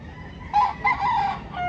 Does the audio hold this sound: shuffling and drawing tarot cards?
no